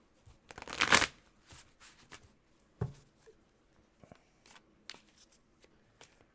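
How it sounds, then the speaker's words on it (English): A deck of tarot cards being shuffled up close, opening with a loud riffling burst, then a series of softer taps, slides and flicks as the cards are squared and handled. "And now we're going to go ahead and shuffle these cards."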